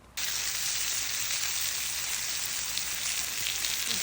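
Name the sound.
toasted sesame ahi tuna searing in a pan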